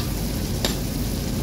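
Onion fries in a pan with a steady, close sizzle and a single brief clatter partway through.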